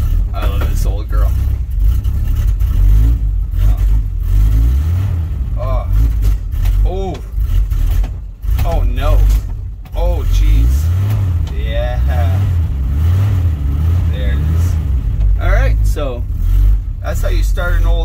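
An old Dodge D100 truck engine runs and revs in warm June weather, a low, throbbing rumble that swells and eases throughout while a person talks continuously over it.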